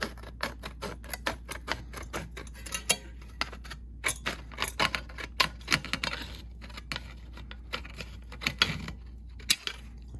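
Tin snips clip through sheet metal for a transition fascia gutter template along the top edge just below the original bend, a quiet run of sharp metallic snips and ticks repeating unevenly throughout.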